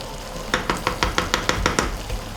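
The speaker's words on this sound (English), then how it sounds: "So we let that simmer for how long again?" Fish simmering in a cooking pot gives a steady sizzle, overlaid by a run of about ten quick, evenly spaced clicks or taps close by.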